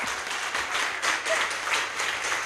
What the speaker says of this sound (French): Je voudrais un tonnerre d'applaudissements pour nos panélistes.